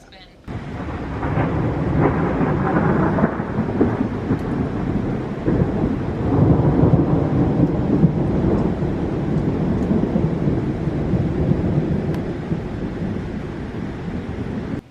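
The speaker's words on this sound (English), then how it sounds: "We're waiting out the storm for dinner" A thunderstorm rolls overhead, a long deep rumble of thunder swelling after a sharp onset and fading slowly over a steady wash of rain, heard from nearby indoors.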